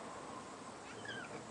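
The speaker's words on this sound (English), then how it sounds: "my cat's meowing to come out" A pet cat meowing at a door to be let out, heard as a few faint, drawn-out mews from some distance in a quiet room, with no talking over them.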